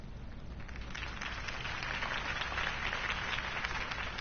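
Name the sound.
crowd applause after a campaign speech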